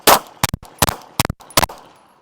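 Five sharp pistol shots crack out in an uneven string during a USPSA transitions drill, loud and close with short ringing tails, a pause before the final pair.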